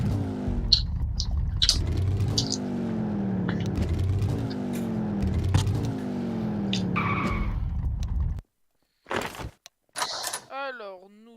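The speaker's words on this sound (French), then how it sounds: "Je vais sortir mon véhicule." Game vehicle engine in a roleplay video game revs and drones steadily for about eight seconds, loud and continuous with a tire-squeal edge, then cuts off abruptly, leaving a few brief bursts of other game sounds.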